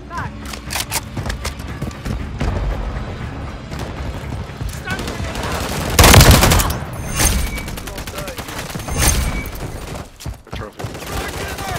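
Rapid gunfire bursts and a loud close blast ring out in a Call of Duty: Modern Warfare III match, with players shouting over the shooting and radio callouts.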